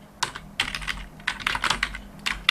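Computer keyboard typing while entering data in accounting software, clusters of rapid, crisp keystrokes at close range with brief pauses between bursts and no speech.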